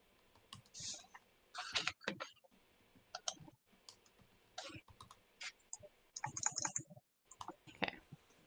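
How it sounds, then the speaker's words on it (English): Fingers tap a computer keyboard in short, irregular bursts of quick clicks separated by brief pauses, close and fairly soft. "I'm just gonna type it."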